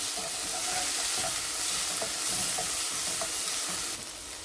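Tomato paste being stirred into a thick, sizzling curry gravy in a pan, a dense continuous frying hiss with faint spoon taps that eases slightly just before the end.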